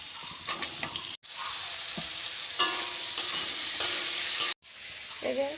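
Potatoes and ridge gourd frying in a pan, a steady loud sizzle with scraping stir strokes throughout, broken by two brief pauses.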